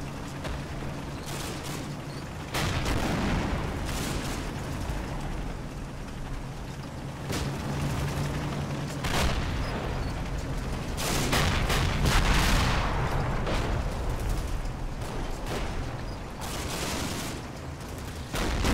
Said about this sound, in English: Oh, we're taking fire.